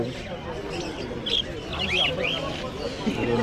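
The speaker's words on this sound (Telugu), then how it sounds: "డక్స్ కూడా ఉన్నాయి కదండి" Ducks at a busy Chennai pet market on Broadway, a few short quacks and chirpy calls heard mid-distance beneath steady talking and market bustle.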